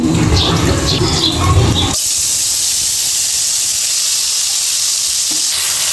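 Eggplant slices fry in hot oil in a kadai, starting with a loud, busy sizzle and stirring clatter, then settling into a steady, bright hiss.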